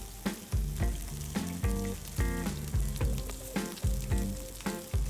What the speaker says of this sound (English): Let the chicken cook for about 4 to 5 minutes, then flip.